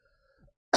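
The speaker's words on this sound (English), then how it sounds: "It was me coughing." A single short, harsh cough right up close, preceded by a brief faint breathy sound.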